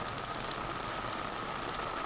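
Heavy monsoon rain pouring down in Mundra, Kutch, a dense, steady roar of drops on surfaces, loud and continuous with no voices.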